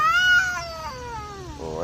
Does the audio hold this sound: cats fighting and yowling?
yes